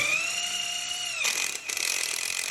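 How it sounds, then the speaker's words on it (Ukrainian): Bicycle gear shifter being tested during an electric motor fitting: a whining tone for over a second, then a short burst of ratcheting, clicking mechanical noise, close and fairly loud. "Перевіряємо, чи працює переключатель скоростей"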